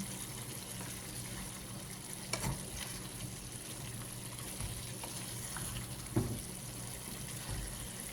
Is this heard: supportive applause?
no